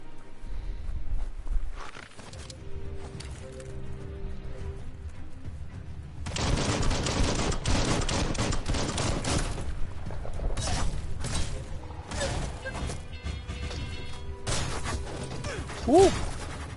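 Gunfire from the video game Biomutant comes in dense bursts. The shooting runs long, roughly from the middle of the clip onward, and mixes with game booms, mechanical effects and music.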